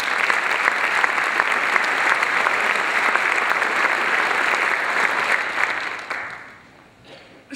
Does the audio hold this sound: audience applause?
yes